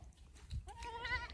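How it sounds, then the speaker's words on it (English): A baby goat lets out one short, wavering bleat near the end, fairly close and clear over a faint low outdoor rumble. "Do you like the baby goats?"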